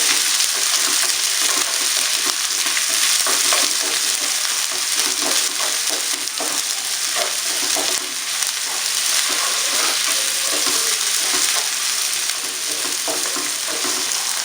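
Garlic and onion sautéing in a pan for a Kapampangan ginisa base, a loud continuous sizzle with scraping stirs running throughout, alone and close.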